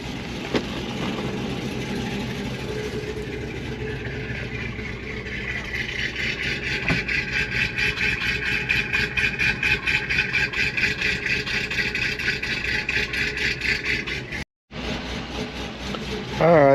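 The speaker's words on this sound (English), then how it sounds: "you can hear it's got quite the rowdy cam in it" A two-wheel-drive car idles close by with a rowdy cam, giving a loud, lumpy engine note with a rhythmic loping pulse that grows rougher partway through. It cuts out briefly near the end.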